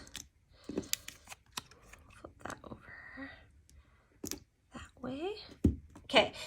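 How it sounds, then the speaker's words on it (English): Scissors snip off the end pieces of a sheet of card-making paper, a few short crisp cuts close by, mixed with quiet handling of paper and a person talking softly between cuts. "we're gonna go ahead and just grab our scissors and we're gonna cut off just the end pieces"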